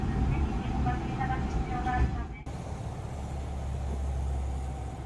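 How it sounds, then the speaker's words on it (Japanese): Belmonta sightseeing train shunting through the Takaoka station yard, heard from an open window: a steady low rumble of rolling rail cars, with a brief drop partway through, under faint background chatter. "ベルモンタは進行方向を変えて、再度高岡駅の上花線ホームから氷見線ホームに構内を移動し、愛の風富山鉄道線を横断します。"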